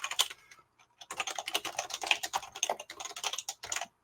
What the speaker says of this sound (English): I understand my keyboard might be a little loud, so I'm going to try not to type so much